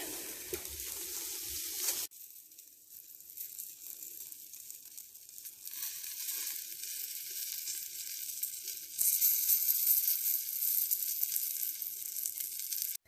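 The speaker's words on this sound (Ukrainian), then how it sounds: "Зараз будемо смажити перчик і кабачки." Steady, loud sizzling of peppers and zucchini frying in a hot pan, a continuous hiss that swells briefly louder partway through, with no talking.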